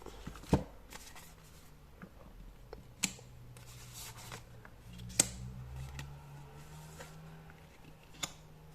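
Tarot cards shuffled and drawn at a table, soft papery riffles and slides with sharp snaps as cards are laid down, quiet and close, no voices.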